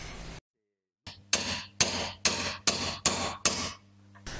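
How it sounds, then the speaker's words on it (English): Repeated sharp metallic hammer blows drive a part onto a Mercedes-Benz air intake extension during Bosch D-Jetronic additional air slide work, about seven close, evenly spaced strikes after a brief silence. "Just keep on hammering."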